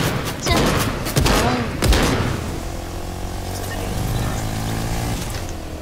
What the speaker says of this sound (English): people shooting from over there